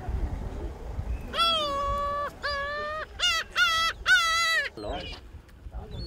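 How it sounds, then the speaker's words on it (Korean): Seagulls being fed on a coastal island cry out in a series of loud, close, harsh calls, about five bursts in quick succession with short gaps, over a low background rumble. "갈매기 밥 주고 있어요"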